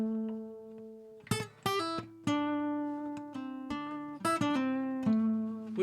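A lone guitar plays a sparse riff, single picked notes and slides ringing out close and fairly quiet, with sustained tones between short plucked phrases.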